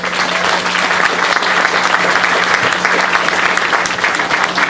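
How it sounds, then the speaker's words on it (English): Sustained audience applause at an outdoor community groundbreaking ceremony, a dense steady wash of many hands clapping at even loudness throughout, with a faint low hum underneath. "Let's give her a round of applause."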